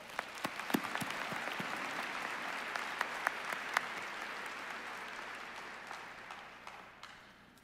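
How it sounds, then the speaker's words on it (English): Audience at a university commencement ceremony for a college of arts and sciences breaks into dense, sustained applause with scattered sharper claps, moderately distant, gradually thinning and fading out toward the end. "Please join me in giving them a round of applause"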